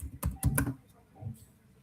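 A computer keyboard is typed on in a short burst of a few quick clicking keystrokes, close and fairly quiet, followed by a softer tap and a faint voice.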